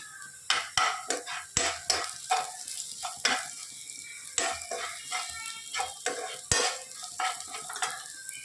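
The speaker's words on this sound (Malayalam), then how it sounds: "ഉപ്പിട്ട് നന്നായിട്ട് വഴറ്റി കൊടുക്കാം." Onions sautéed with salt in a pan, with repeated sharp spatula scrapes and clacks against the metal over a steady sizzle, close up and rhythmic with no talking.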